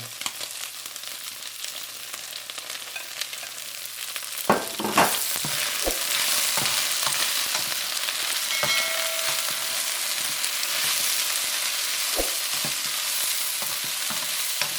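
Beef and onions stir-fry in a hot pan, a loud steady sizzle that begins after a few seconds of quiet, with scattered scraping and clatter from stirring.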